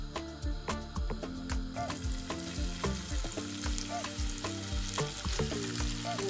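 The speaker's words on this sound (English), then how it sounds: "We are frying the fish." Steady, loud sizzling and crackling of dried lotia fish frying in a hot pan, with occasional clinks and stirring scrapes throughout.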